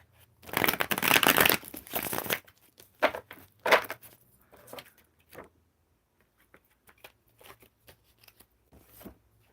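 Tarot cards being shuffled, a loud riffling burst up front followed by quieter scattered slides, flicks and taps of card stock close by, with no talking.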